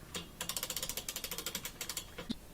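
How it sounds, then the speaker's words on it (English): Quick, rapid ratchet clicks come in bursts while the ratchet is turned during an LG washer repair, close and fairly quiet. "We're going to put on the ratchet."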